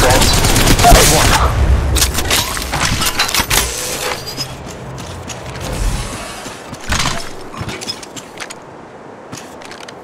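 Rapid automatic gunfire rattles in loud bursts in the mobile battle royale shooter Apex Legends Mobile, heaviest early and then thinning into scattered shots, with game chatter and effects around it.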